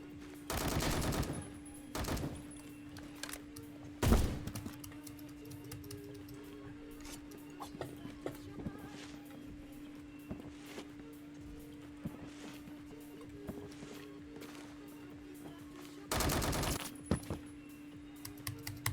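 A Scar H rifle in a first-person shooter fires several short loud bursts, separated by quieter stretches with a steady hum and scattered clicks, ending with one more burst.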